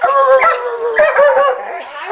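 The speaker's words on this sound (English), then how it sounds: "What are you barking at?" A dog barks and yips repeatedly at close range, high-pitched and insistent, with a few short pauses between bursts.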